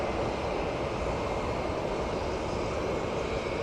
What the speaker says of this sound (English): over here we have a little Cessna that's landing. It appears it's the Caravan that we always see.